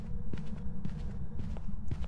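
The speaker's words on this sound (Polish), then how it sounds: "Słyszymy te kroki wyraźnie." Ghost footsteps in the horror game Phasmophobia, a steady run of low, muffled thuds that repeat at an even pace and sit prominently in the mix.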